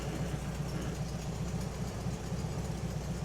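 A 1971 VW bus engine idles steadily nearby, a constant low chugging rumble with a slight knocking pulse and no voices, idle speed settling down.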